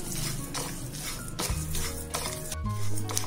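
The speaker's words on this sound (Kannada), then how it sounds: "ನೋಡಿ, ನೀಟಾಗಿ ಚಟ್ಪಟ್ ಅಂತ ಸೌಂಡ್ ಬರ್ತಾ ಇದೆ." Ingredients for high-protein balls dry-roast in a pan over a low flame, with light crackling, scraping stirs and occasional clinks of the utensil against the pan, close by.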